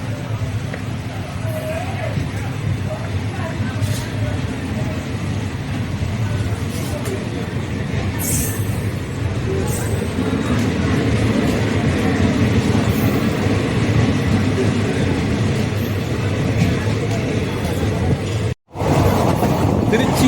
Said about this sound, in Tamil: காவிரி நதியின் மீது ரயில் சென்று கொண்டிருக்கிறது